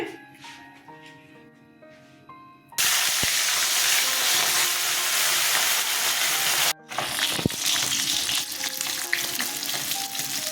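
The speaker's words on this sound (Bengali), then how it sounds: "তেল গরম হয়ে গেছে মাছ ছেড়ে দিচ্ছি" Sarputi fish slide into hot oil. After a few quiet seconds, a sudden loud, steady sizzle erupts, cuts out for a moment, then resumes with crackling and spatter.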